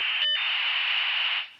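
A dial-up modem retraining its connection after a phone is picked up, a loud, steady hissing tone with a brief dropout near the start before it fades out.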